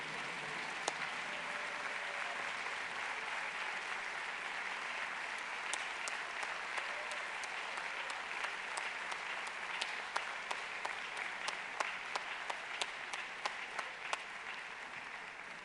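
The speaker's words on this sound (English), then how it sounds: "Please join me in applauding this remarkable group." Audience applause at an Atlantic Council honors event, a sustained wash of clapping from a large crowd, steady and even, with a few sharper individual claps standing out.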